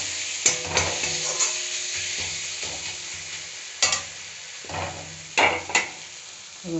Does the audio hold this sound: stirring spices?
yes